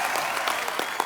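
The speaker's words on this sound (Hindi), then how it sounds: "आपकी जोरदार तालियों के बीच तशरीफ ला रहे हैं श्री पंकज उदास जी" A studio audience at a TV comedy show bursts into loud, dense applause, a brief burst of many hands clapping together.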